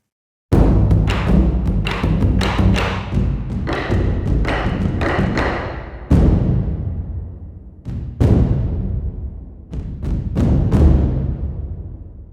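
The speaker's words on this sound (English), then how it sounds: "here are the 600-pound Nagatos, and these are just going to be ideal for those classic, epic, low, booming hits" Massive 600-pound Nagato drums are struck in a slow epic pattern, each loud low booming hit ringing out with a long decaying resonance, some strikes clustered, others spaced apart.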